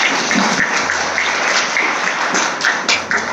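A church congregation claps together in steady, dense applause that fills the room at close range and continues throughout without a break.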